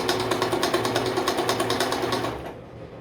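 A Vigorelli 238 sewing machine runs steadily for a couple of seconds with a fast, even needle rhythm and motor whir, loud and close, then stops and leaves a faint hum.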